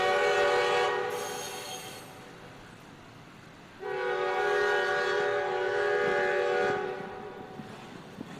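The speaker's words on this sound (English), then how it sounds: "the video actually goes on for about 3 minutes, and that train lasted about 15 minutes" A long freight train rumbling past at a railroad crossing, loud and close, with extended blasts of its horn, one early and a longer one midway, over steady wheel and rail noise, with no speech.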